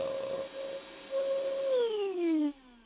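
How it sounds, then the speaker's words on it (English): A shop vac powered through a BougeRV 2000-watt pure sine wave 12-volt inverter hums with a steady motor whine, then the pitch sags and winds down as it loses power near the end, running alone without talk. "Let's go ahead and kick on the shop vac and see what we get to."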